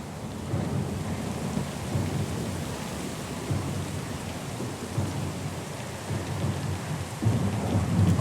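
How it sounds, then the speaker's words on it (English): A steady thunderstorm from the video game Pillars of Eternity II: Deadfire: dense rain pours without pause while low thunder rumbles underneath, loud and constant throughout. "Lost and alone in the storm?"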